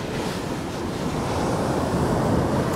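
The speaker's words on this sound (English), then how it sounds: "Just listen to the waves crashing and relax." Steady ocean surf washing in on a Bermuda beach, a continuous full roar of breaking waves with wind noise on the microphone, and no voices.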